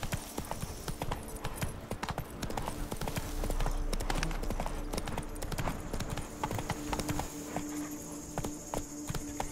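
A horse in The Witcher 3: Blood and Wine clip-clops along with loud, steady hoofbeats close by, the pace quickening in the middle, over faint ambient noise.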